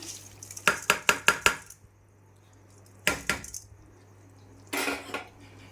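A spoon clatters and scrapes against a pot while rice is stirred in for egg biryani, with a quick run of five sharp clinks followed by two more separate bursts of scraping and knocking, close and fairly loud.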